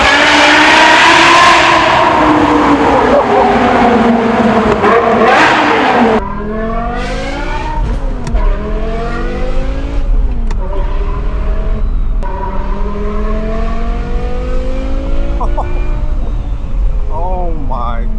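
A loud, high-revving V10 engine in a manual BMW M5 climbs and drops through repeated gear changes, with rising and falling pitch sweeps. It stays close and continuous throughout.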